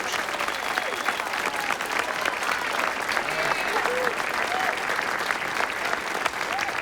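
An audience at an evening ceremony honoring local heroes applauds steadily and loudly throughout, a dense wash of clapping with some cheering mixed in.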